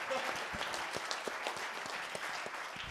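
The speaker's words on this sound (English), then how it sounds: "please clap" An audience applauds at the opening panel of an art exhibition, a steady, moderately loud patter of many hands that runs throughout, with a little crowd murmur underneath.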